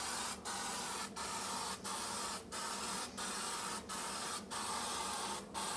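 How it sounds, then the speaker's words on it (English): Zep Heavy Duty Oven Cleaner sprayed onto the walls and spots inside an oven from a trigger bottle, a run of about nine quick hissing bursts in a steady rhythm, close and distinct with brief gaps between. "I'm just gonna spray it on the spots here"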